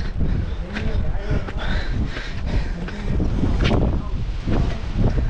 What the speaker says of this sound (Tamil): அந்தளவு பயங்கரமான காற்று அடிக்குது